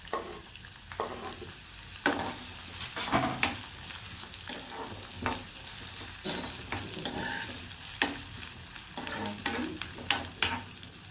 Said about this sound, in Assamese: জিৰাখিনি অলপমান ফুটিব লৈছে